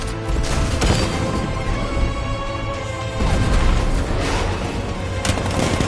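Tank cannon fire and explosions in a Batman video game, a loud, dense barrage of booming blasts and crashing impacts that rolls on continuously with heavy low rumble and no talking.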